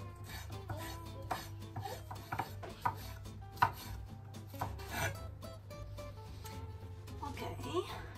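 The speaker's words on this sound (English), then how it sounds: "Now we're gonna cut this onion," A knife chops a spring onion on a kitchen board, a run of irregular close taps and scrapes over a steady low hum.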